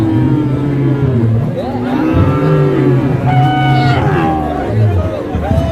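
A Friesian cross calf at a busy cattle market gives drawn-out moos, several in a row, close and loud over a constant murmur of crowd chatter.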